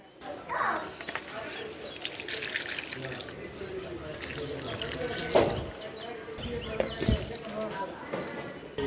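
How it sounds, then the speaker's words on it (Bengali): Water is poured from a container onto a potted flowering plant at home, a splashing, trickling flow close by, with voices and household noise around it. "এখন জল দেবো গাছে"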